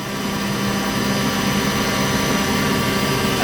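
A 2000 Sheffield TF1004 cylindrical grinder with its spindle turning at 1,000 RPM gives a steady, loud, broadband machine roar and whine that holds constant from start to finish.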